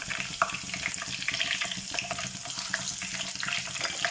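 Three bay leaves and two dried chillies fry in hot oil for an Assamese-style mutton curry, giving a close, steady sizzling hiss with scattered light crackles and no voices.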